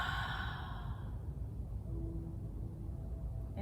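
A long, slow exhale during yoga breathing, heard as a close, airy, breathy rush that fades out over about a second, followed by quiet room tone.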